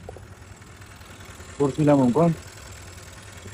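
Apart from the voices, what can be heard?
scooter engine running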